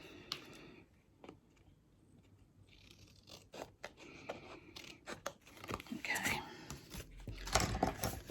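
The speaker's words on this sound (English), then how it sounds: "So I'm just going to cut that in a little bit more." Scissors snip through a fabric sleeve piece in a sewing room, making soft irregular cuts and scrapes that grow busier toward the end, with a low voice murmuring at times.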